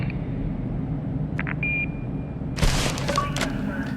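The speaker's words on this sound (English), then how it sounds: "If you leave a message after the beep, someone will get back to you shortly." An answering machine in The Darkness video game gives a single short electronic beep tone, followed by a burst of noisy static over a low background rumble.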